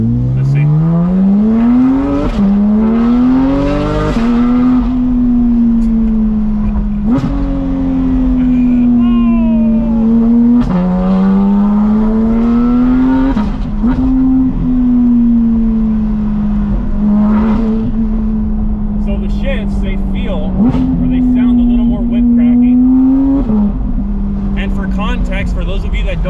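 A straight-piped Porsche GT4 RS with exhaust valves open drives on a road course, its loud engine note rising and falling through repeated accelerations and gear shifts, up close and continuous.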